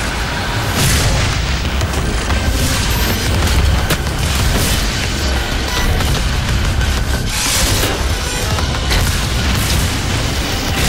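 A grenade explodes in the Doom SnapMap video game amid continuous loud, dense combat din, with booming blasts and heavy low rumble throughout and no talking.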